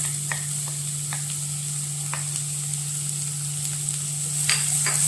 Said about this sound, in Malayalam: ഇതിനോടൊപ്പം തന്നെ സവോള കുരുകുര അരിഞ്ഞതോടെ ചേർത്ത് കൊടുക്കാം.